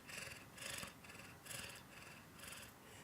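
A person imitates a cat purring with a close, raspy, rhythmic rumble that swells and fades in about four breathy pulses.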